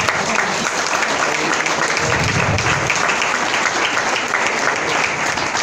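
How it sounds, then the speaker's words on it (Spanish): A church congregation applauds for the Lord, a dense, steady wash of clapping that fills the room and holds loud and even throughout. "Dale fuerte el aplauso al Señor"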